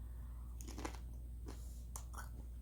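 Crunchy Jack in the Box fast food is chewed up close, several crisp crackling bites in an uneven rhythm over a quiet hum.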